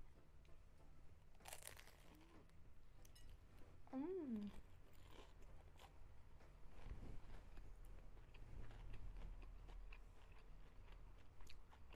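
A crispy homemade vegetable shrimp spring roll gets bitten and chewed, giving quiet crunches and mouth sounds near the listener, with brief voices nearby.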